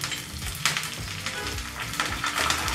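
Curry leaves and byadgi chillies crackle and sizzle in hot oil for a spicy puffed-rice tempering, with bursts of spitting and a few stirring clatters, close and clear with no voices.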